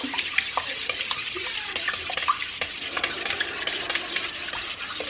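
Milk being stirred into eggs for scrambled eggs, with a steady, close scraping and whisking against the bowl that carries on without a break. No voices are heard.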